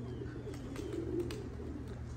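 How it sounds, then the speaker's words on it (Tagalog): Racing pigeons at a loft coo in soft, low, repeated murmurs under a steady outdoor background hum, close by and fairly faint. "ito yung mga ibon"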